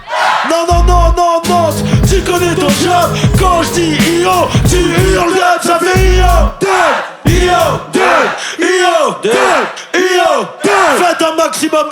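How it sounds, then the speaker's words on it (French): A crowd at a rap battle final yells back in call and response, loud hoarse shouts in quick repeated bursts. A miked voice leads the calls over heavy bass music. "Quand je dis yo, tu hurles dub, ça fait yo."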